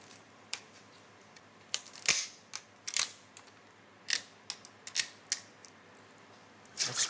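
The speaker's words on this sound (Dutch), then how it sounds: "We gaan onze staart pellen, net zoals een scampi." A Breton blue lobster tail being peeled by hand like a scampi, with a series of sharp, dry cracks and snaps of shell at irregular intervals over a quiet background.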